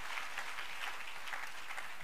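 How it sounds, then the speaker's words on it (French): A church congregation claps together in praise, a dense, even wash of applause that holds steady for the whole short stretch. "On applaudit pour Jésus de Nazareth."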